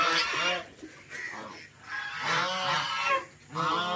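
Geese on an integrated farm honk in a series of nasal calls, several overlapping honks close by and moderately loud, with no talking.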